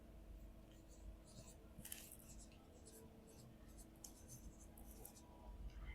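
Pen scratching across paper in a classroom-style lesson, soft irregular strokes in short bursts over a steady low hum, fairly close and quiet, with no talking.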